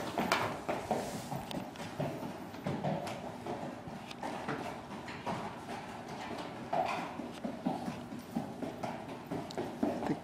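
Steady clip-clop of a buckskin walking horse's hooves walking in an even rhythm, moderately close, continuing throughout.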